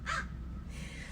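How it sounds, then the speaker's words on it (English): A crow gives a single short, harsh caw at close range, then a low outdoor rumble carries on with no other calls. "I don't know what that crow squawking means"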